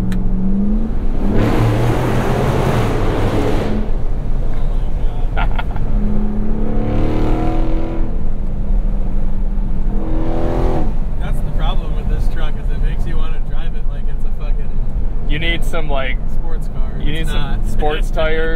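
Ram TRX pickup fitted with an AWE 0FG exhaust accelerating in several loud surges, heard from the cabin with windows open, with people talking between and over the engine bursts.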